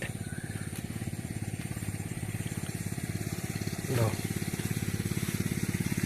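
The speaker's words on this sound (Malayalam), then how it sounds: "നേരെ വെള്ളം നിൽക്കുന്ന തോടുകളും മോട്ടോറാണ് അടിക്കുന്നത്" An electric motor pumps water into the channels of green paddy fields, giving a steady, continuous mechanical drone with a regular throb while a person talks over it.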